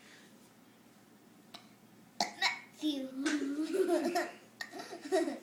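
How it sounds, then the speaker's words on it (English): A child burps while saying a name, a short raspy belch that blends into the voiced word, following quiet room tone and a few small clicks. "You have to burp while you say the letter."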